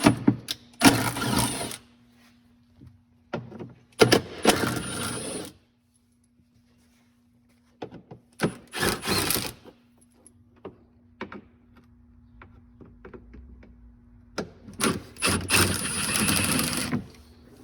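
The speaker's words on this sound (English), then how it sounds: "Now using a T30, we need to take the 4 screws out that are holding the rear body in place." Power driver with a T30 Torx bit backing out the four screws that hold a golf cart's rear body. Several short whirring bursts are separated by pauses, with small clicks and clatter between them.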